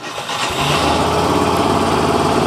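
A fuel-injected Yamaha YBR 125 motorcycle engine cranks and catches within half a second, then settles into a steady, loud, close idle putter.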